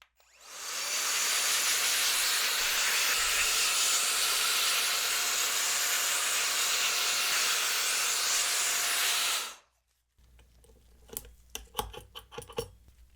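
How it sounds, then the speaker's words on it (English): A loud, steady hiss from an electric air duster blowing dust off a smoke- and soda-damaged Nintendo Wii motherboard runs continuously for about nine seconds, then cuts off, followed by a few close clicks and handling knocks. "we can use my ever so trusty electric air duster"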